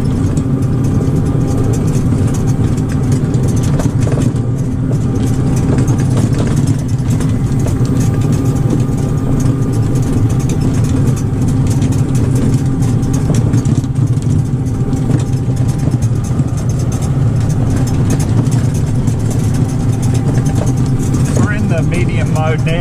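A Greenworks CU800 electric UTV drives along with a steady low hum and rumble of motor and tyres, while a person talks over it the whole time.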